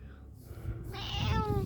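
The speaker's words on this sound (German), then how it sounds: "Süße Katze." A pet cat lets out a single drawn-out meow close by, rising clearly after a moment of low background rumble.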